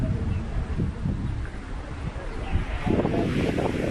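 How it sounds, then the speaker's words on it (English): Strong wind sweeps across hilly country in Catalunya, a low rumbling roar that buffets the microphone steadily and swells harder near the end, with no one speaking. "Very hilly here and incredibly windy. You can probably hear."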